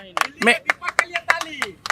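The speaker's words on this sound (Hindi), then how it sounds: "इनकी ताली मार दो भाई साहब के लिए" A small group of people clap their hands in a quick, uneven burst of about nine sharp claps, close and fairly loud, with a voice briefly heard among them.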